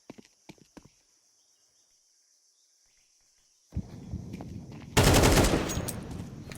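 AK rifle gunfire in a video game match: a few faint clicks and shots, then a pause of near silence, then a burst of loud, rapid automatic fire that trails off.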